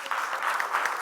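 A room of attendees at an education seminar gives a short burst of even, moderately loud clapping that lasts about a second.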